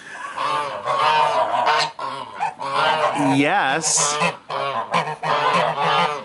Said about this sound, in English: So the other ones are Czech geese.